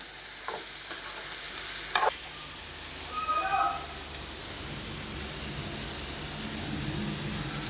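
Masala with turmeric, curry leaves and salt fries in a pan with a continuous sizzle, broken by a couple of sharp clinks and a brief scrape of stirring.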